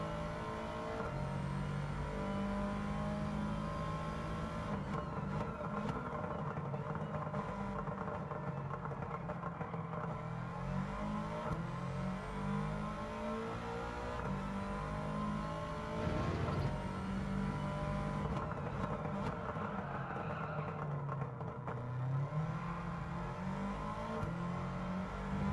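An aggressively tuned race car engine drones and revs steadily at Tsukuba circuit, its pitch rising and falling as the throttle works, loud and continuous throughout with no voices.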